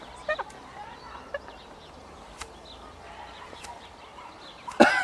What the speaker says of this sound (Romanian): Și cântă păsările.